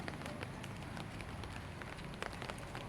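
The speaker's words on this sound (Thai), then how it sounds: "ฝนตก ฝนตกฟ้ามืด" Rain pours down steadily in a dense, even hiss of drops, loud and continuous throughout with no pauses.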